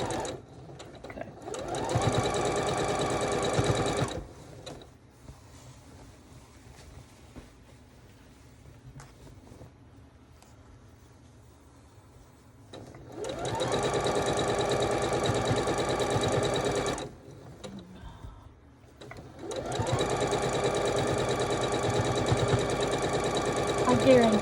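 A sewing machine pieces a quilt sampler, running in three long loud bursts of steady mechanical whirring with quieter gaps between, and a voice speaks during the pauses.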